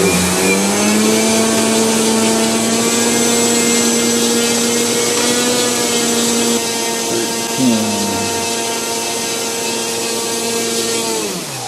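An RC aircraft electric motor runs at full throttle, a loud, sustained high-pitched whine with a strong steady tone that dips slightly in pitch partway through.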